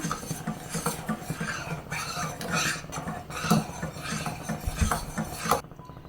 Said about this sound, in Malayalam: കട്ട കെട്ടാതെ ഇളക്കി കുറുക്കിയെടുക്കാം.